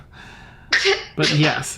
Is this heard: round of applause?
no